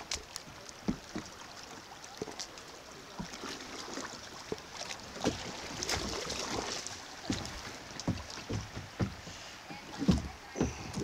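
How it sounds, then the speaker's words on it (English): A kayak paddles through shallow, rocky water on Antietam Creek, with irregular close splashes and paddle strokes over a soft background trickle. "We'll just paddle around and see if we can spin off of it."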